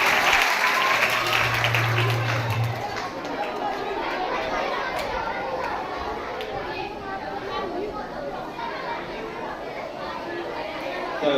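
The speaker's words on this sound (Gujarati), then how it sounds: "તાળીઓ પાડો બધા ફરીથી." Students and audience at a school solo acting competition clap together, loud applause at first that thins into scattered clapping under busy chatter of children and adults.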